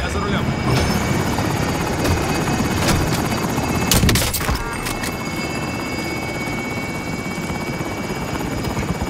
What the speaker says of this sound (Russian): Вертолет прибыл.